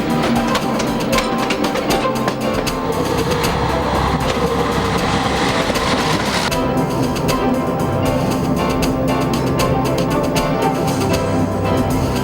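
Rhine Express railway carriages hauled by locomotives running on rails, a loud continuous rumble with rhythmic clatter and metallic rattling that grows harsher partway through.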